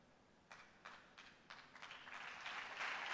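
A church congregation starts applauding, scattered individual claps at first that quickly build into faint but steady, thickening applause from the room.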